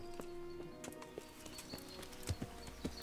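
Horse hooves clip-clop in Kingdom Come: Deliverance, a few scattered thuds over a busy background of game ambience and faint tonal sounds, fairly soft and unevenly spaced.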